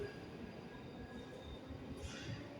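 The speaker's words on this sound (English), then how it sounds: "There go both trains away into the distance" Faint, steady rumble of trains rolling away in the distance at Edinburgh Park station, with a light squeal of wheels near the end.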